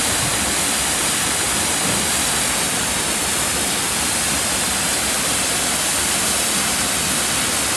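A waterfall at the MorningStar Mill pours in full flow on an autumn day, making a loud, steady, unbroken roar of rushing water close by, with no voices over it.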